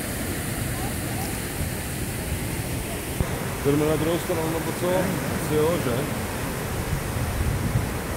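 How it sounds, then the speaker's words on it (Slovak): Steady broadband rush of the Cascades d'Ouzoud waterfall in Morocco, loud and close, filling the whole scene while people chat casually over it. "Ináč tie vodopády sa volajú Cascade Ouzou."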